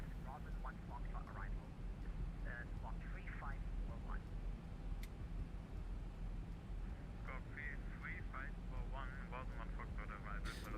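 A simulated Zibo 737-800 in X-Plane 11 drones with steady airflow and engine rumble as speed brakes deploy, while radio voices chatter intermittently over the constant background.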